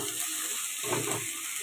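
Onions fry in a little oil for a soybean curry, a steady close sizzle with a brief stir or scrape in the middle, no talking over it.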